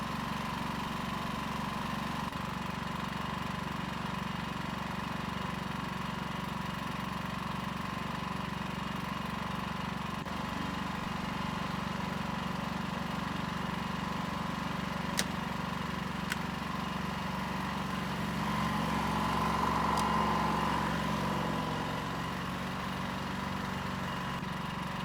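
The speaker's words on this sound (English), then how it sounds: "we'll give it a few minutes for both the load bank and the engine to cool down." An Erayak 8000iE inverter generator runs unloaded while cooling down, giving a steady, moderately loud engine drone with a constant hum and a slight rise near the end, with no voices.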